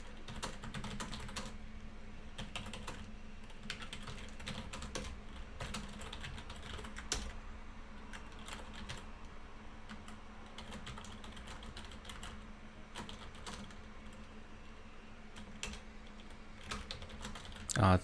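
Rapid keystrokes patter steadily on a computer keyboard, with irregular clusters of clicks continuing throughout at a close, moderate level.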